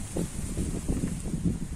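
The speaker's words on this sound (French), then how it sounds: "il y a beaucoup de vent aujourd'hui" Steady gusting wind buffets the microphone outdoors in a vegetable garden, a low rumbling roar with faint rustling, continuous throughout.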